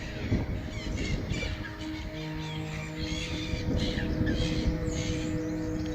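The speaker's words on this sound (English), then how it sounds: "I thought it was over, and then I saw this. And they're in a frenzy." Birds at a nature reserve in Britain, likely crows, squawk and caw in a frenzy, a dense continuous clamour of overlapping harsh calls and chirps, near and loud throughout.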